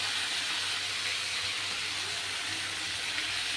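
Hilsa fish sizzles in hot oil in a home kitchen, a steady, bright frying hiss that runs unbroken and fairly close, with no one speaking.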